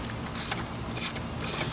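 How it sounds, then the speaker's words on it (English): Three quick bursts of ratchet clicking from a 15 mm deep socket loosening a bolt on a Jeep Wrangler engine during a serpentine belt job, close and loud, evenly spaced and with no voices. "use a 15 millimeter deep all the way down here. And keep loosening it up."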